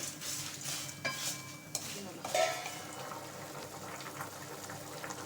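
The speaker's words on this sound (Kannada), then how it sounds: "ಈ ಕಡೆ ನಾನು ತರಕಾರಿ ಎಲ್ಲ ಕುಕ್ಕರಲ್ಲಿ ಹಾಕಿಟ್ಕೊಂಡಿದ್ದಲ್ಲ, ಅದು ಚೆನ್ನಾಗಿ ಕುದೀತಾ ಇದೆ" Vegetables bubbling away in an open pressure cooker give a low, steady simmering hiss with a few clinks and stirring scrapes near the start, heard close and fairly quiet without speech.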